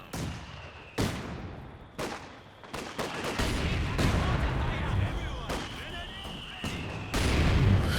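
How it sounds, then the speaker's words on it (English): Mortar and gunfire barrage in a Company of Heroes 2 2v2 battle with mortars and an MG42 in action. Sharp blasts go off roughly every second, mixed with rolling, crackling gunfire and booms at mid distance. "The mortar wars continue."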